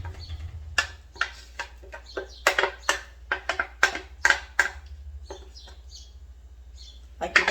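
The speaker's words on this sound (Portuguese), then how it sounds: "vocês estão ouvindo? Os passarinhos cantando aí" Small birds chirp and call in a Brazilian backyard ringed by trees, including tangerine and acerola, with a quick string of sharp, close notes in uneven bursts over a low steady hum.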